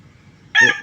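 A chicken lets out a short, loud, close cluck after near silence, with the start of another call cut off at the end.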